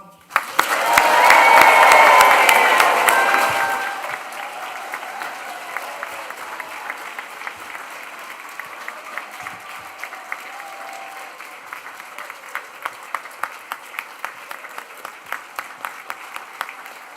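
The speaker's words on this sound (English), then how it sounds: "let's raise the roof with a huge cheer and round of applause for our graduates." A graduation ceremony crowd for nursing, midwifery and psychology graduates bursts into loud applause and cheering, swelling for a few seconds before thinning into scattered individual claps that trail off over a long tail.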